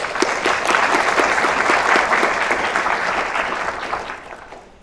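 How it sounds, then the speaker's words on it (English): Audience applause after a speech at a contest opening ceremony, steady dense clapping from a crowd that holds for several seconds and then tapers off toward the end, with no talking. "Let's please give him another round of applause."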